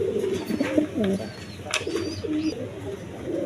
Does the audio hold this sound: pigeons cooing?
yes